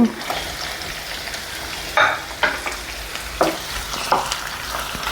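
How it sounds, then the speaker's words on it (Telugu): Sliced onions and tomatoes frying in oil for a stuffed brinjal masala curry, a continuous close sizzle broken by several sharp spatula scrapes and knocks, no voices. "రెండు ఉల్లిపాయలు కట్ చేసుకున్నామండి వీటిని నూనెలో మగ్గనిచ్చుకుందాం కొద్దిసేపు"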